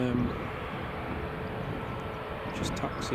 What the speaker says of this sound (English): that's the Max just taxiing